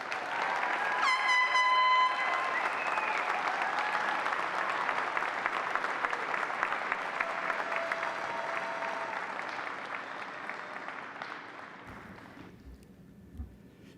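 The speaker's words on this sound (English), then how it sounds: "Let's give graduates one more round of applause." Sustained applause from a large commencement crowd for graduates, loud and steady for several seconds before tapering off and ending abruptly.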